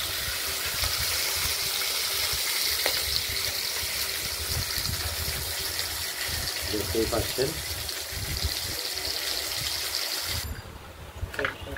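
Katla fish pieces frying in oil in a pan give a constant loud hissing sizzle from start to near the end, with a brief voice speaking over it.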